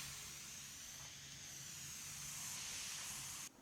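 Spray gun applying a gloss sheen lacquer top coat on a mid-century modern Lane Acclaim furniture piece, a steady close hiss of atomized spray running nonstop for several seconds before cutting off abruptly at the end.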